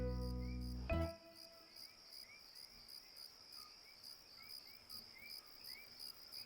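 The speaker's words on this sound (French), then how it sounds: "Ce sont les grillons." Crickets chirping at night in an animated scene, a steady faint pulsing trill that continues alone after a brief louder sound at the start.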